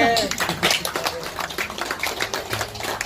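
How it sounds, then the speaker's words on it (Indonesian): An audience claps at a small event, a close, uneven patter of individual hand claps running throughout, with voices mixed in among them. "Tepuk tangan untuk Mbak Tere."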